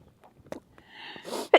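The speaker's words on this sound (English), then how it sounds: "I'm going to sneeze" A single human sneeze, sharp and close, bursts out at the end after a short indoor pause.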